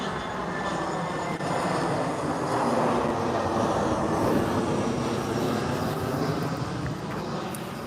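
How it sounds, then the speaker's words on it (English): Jet airliner passing low overhead on approach near San Diego Airport, a loud sustained roar that swells toward the middle and then slowly fades, heard alone. "It's going to go right over me, airplane time. San Diego Airport."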